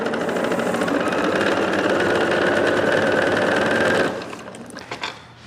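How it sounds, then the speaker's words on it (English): A sewing machine overdue for cleaning and oiling runs loudly and steadily at close range with a dense mechanical whir, then stops and leaves a few faint clicks. "my machine's getting a little loud now"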